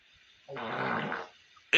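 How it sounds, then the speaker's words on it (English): A recorded fart plays as a single low, buzzing, fluttering blast lasting under a second, fairly loud and close, followed by a short sharp noise. "That's a real fart."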